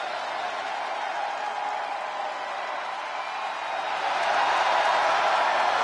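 Arena crowd in the wrestling video game WWE 2K24 cheers as a tag team makes its entrance, a steady distant roar of massed voices that swells louder near the end.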